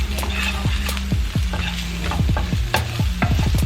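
Onions frying in a pan with ginger over medium-low heat, a steady close sizzle broken by repeated scraping stirs and spoon knocks against the pan, no talking.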